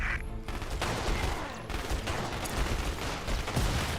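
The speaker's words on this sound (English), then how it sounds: "Yep, that is another grenade." A grenade blast clears a room in the Private Military Manager video game, a dense, loud burst of crackling explosive noise followed by sustained rumbling and debris-like clatter throughout, with no voices.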